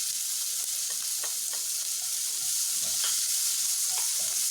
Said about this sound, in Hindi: प्याज को भून लीजिए।